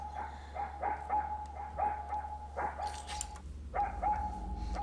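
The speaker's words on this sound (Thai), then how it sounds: "หมาเห่าเหรอ" A dog in the RPG Maker horror game Pocket Mirror barks repeatedly in a steady rhythm, moderately loud over a low hum, with a brief pause before the barking resumes.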